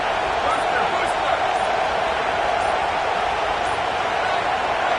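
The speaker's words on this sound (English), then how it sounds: "Decibels rising as the crowd gets behind this defense on third down." Steady, dense roar of a big stadium crowd in a college football video game during a Purdue home third down, a loud continuous wash of noise with no breaks, sustained throughout.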